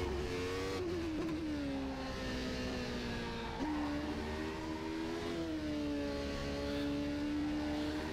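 A McLaren F1 car in rFactor 2 revs hard, its high engine tone climbing and dropping through gear changes, fairly loud and alone.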